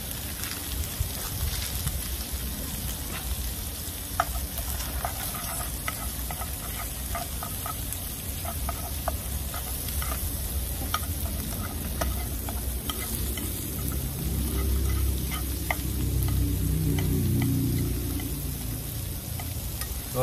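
Udon noodles stir-fried in a pan with their packet seasoning, turned with chopsticks, make a dense, continuous sizzle and crackle with frequent light clicks and scrapes, close and steady throughout, with no talking.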